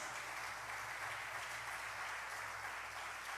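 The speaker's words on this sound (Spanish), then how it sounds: "Dele un fuerte aplauso a Jesús." Steady applause from a church congregation during a sermon, a continuous wash of clapping with no pauses, heard at a distance and fairly quiet.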